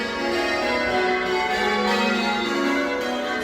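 Church bells at St. Mary's, rung by a team of bellringers for Christmas Day, sound loudly and continuously. Their overlapping tones form a dense, sustained metallic wash with no talking.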